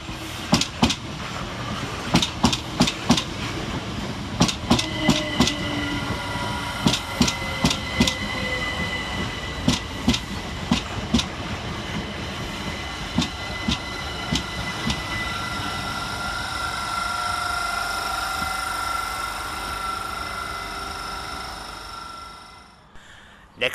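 Southern Railway class 387 electric trains pass through Angmering station, their wheels beating a steady clickety-clack over rail joints above a loud continuous rumble with faint squeals, before the sound fades away at the end.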